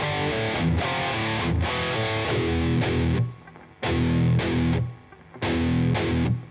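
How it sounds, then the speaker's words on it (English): Heavily palm-muted, distorted electric guitar chugs a slow riff from a metal song, with tight repeated muted bursts and brief gaps of silence between phrases, loud and up close with no talking. "Try and make the palm muting as heavy as possible in this bit."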